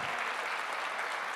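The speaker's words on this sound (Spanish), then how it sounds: "Denle un fuerte aplauso al Señor" A church congregation at a Colombian worship gathering applauds, a dense, even wash of many hands clapping together, steady and sustained without pause.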